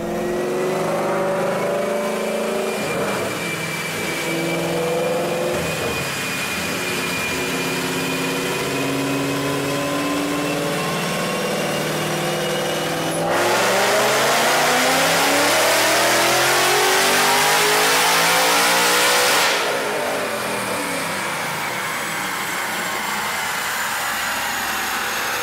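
A 2015-17 Mustang with a Brenspeed Stage 2 Edelbrock 2300 E-Force supercharger revs hard through a dyno pull, engine note climbing loud and steady, surging to a peak near the end before dropping off to idle.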